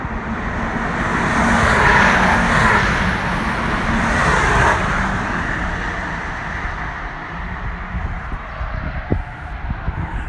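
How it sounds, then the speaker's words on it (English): Cars passing on a race track during a Honda Civic Type R track day, a broad engine and road roar that swells and fades as they go by at moderate distance, with steady background noise and no talk. "Here come the trio of red cars."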